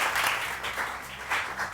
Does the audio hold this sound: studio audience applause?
yes